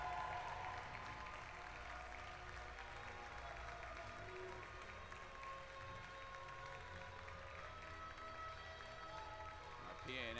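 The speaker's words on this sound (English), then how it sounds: "marching out to nice applause from both crowds" Steady applause from both crowds at an NCAA regional final volleyball match between Emory and Colorado College as the teams march out, sustained and even across the whole stretch in a large gym.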